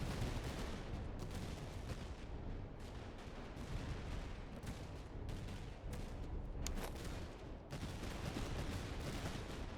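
A gun duel in a city during a Prussian campaign in the strategy game Master of Command brings a continuous, fairly faint crackle of massed musket volleys and artillery thuds rolling on without pause.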